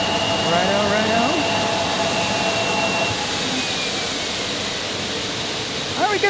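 Airliner arriving from Charlotte at Phoenix Sky Harbor Airport, a sustained jet engine rumble with a falling whine near the start, fairly loud and steady.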